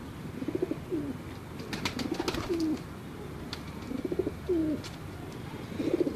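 Pigeons cooing in a loft, repeated soft rolling coos close by, with some faint clicks and background noise between calls.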